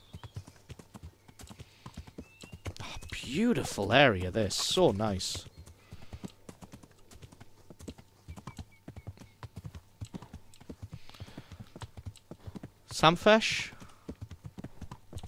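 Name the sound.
horse hooves clip-clopping, from video game Kingdom Come: Deliverance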